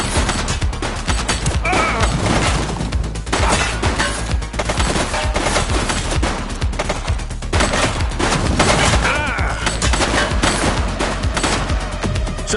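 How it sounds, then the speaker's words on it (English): Sustained gunfire from a fleeing suspect in a red jacket during a police chase in The Precinct, dense bursts of rapid shots rolling continuously over a loud, busy game soundscape with no talk. "He's shooting!"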